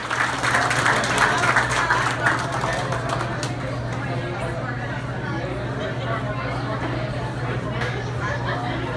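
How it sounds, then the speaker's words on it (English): Applause and cheering from a crowd at a Houston event honoring family members, loudest at the start then settling into a steady patter mixed with chatter and a low steady hum underneath. "Fernando, let's give a round of applause."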